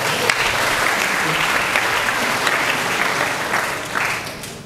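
Cadets at a gathering applaud together in a loud, dense burst of clapping that holds steady before thinning slightly toward the end, with no talk over it.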